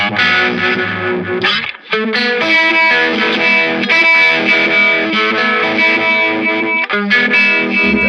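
Electric guitar played through an Analog Man pedal with a vibe effect on a custom pedalboard, a loud, continuous run of swirling, slightly driven chords and notes with a short gap partway through.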